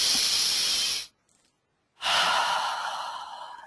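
A deep, audible breath drawn in through the nose, then after a brief pause a long, airy exhale, both close and loud with no talking.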